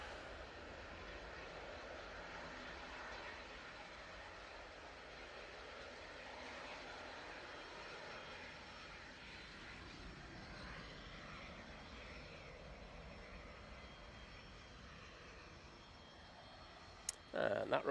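A Ryanair airliner departing Manchester Airport for Dublin gives a faint, steady distant engine rumble throughout, with a brief click near the end.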